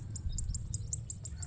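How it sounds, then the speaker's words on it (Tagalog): Birds chirp in short bright repeated calls near rice fields with irrigation on a gravel trail at Mt. Arayat, Pampanga, faint over a low steady rumble, about eight evenly spaced tweets. "Yung mga ibon nandyan."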